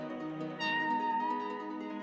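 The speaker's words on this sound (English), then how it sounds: "That sounds like a cat." A virtual instrument preset sustains a cat-like meowing tone with a gliding pitch, rising in loudness after half a second and holding steadily to the end, heard alone without talk.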